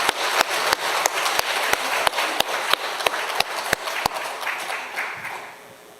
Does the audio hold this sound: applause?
yes